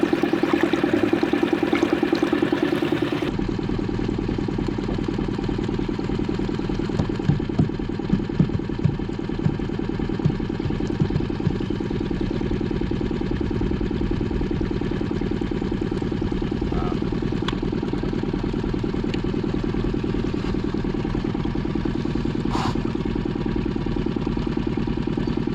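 A low boat engine idles at about 5 miles an hour with a steady, continuous rumble and hum, close and even throughout, with occasional faint knocks.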